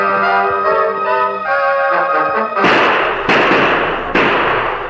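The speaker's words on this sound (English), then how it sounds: "Tonto, loading and reloading his gun with unbelievable swiftness, continued to fire after the fleeing horsemen" Gunshot sound effects in an old Lone Ranger radio western drama, as shots are fired after fleeing horsemen: three loud, sharp cracks about half a second apart following a quieter, tonal opening.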